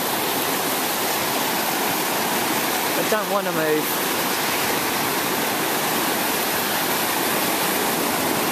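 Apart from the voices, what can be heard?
sea water washing in around a person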